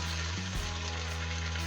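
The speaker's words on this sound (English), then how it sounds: "it calls for sauteing for like 5 minutes, which is what we will do." Vegetables for minestrone soup sauteing in a pot, a soft steady sizzle with a low background hum, quiet and continuous without speech.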